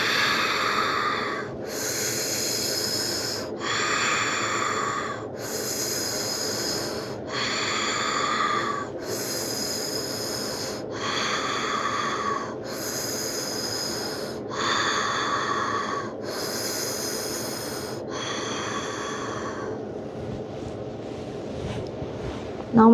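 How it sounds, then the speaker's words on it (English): Deep, slow breathing during a fascial stretching maneuver, about ten long, loud airy breaths in an even rhythm, each lasting about a second and a half, close to the microphone. "I'll just do a few more breaths"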